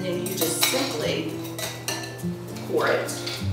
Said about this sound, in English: put the big sphere in the glass, do just one more stir